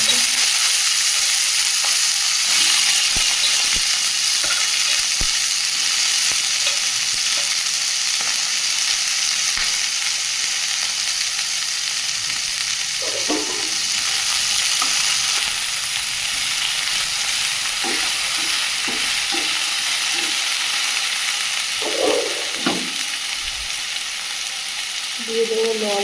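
Eggplant, bitter gourd and potato fry in hot oil in a pan, a steady hissing sizzle with occasional stirring scrapes and light knocks, close and continuous.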